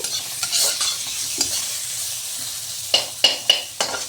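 Sliced onions fry in a small amount of oil beside fish in a pan, stirred with a spatula; soft sizzling runs under a series of sharp, close scraping strokes near the end.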